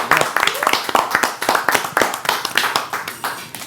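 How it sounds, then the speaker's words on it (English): Clapping on a podcast show, quick loud claps close by in a busy burst, with voices briefly mixed in. "Clap it up for that."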